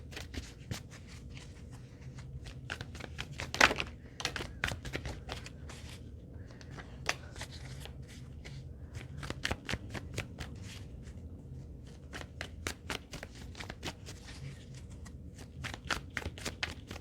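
A Rider-Waite tarot deck being shuffled by hand, giving a long run of crisp riffling and flicking card sounds with short bursts and slaps, close and fairly quiet, with no talking.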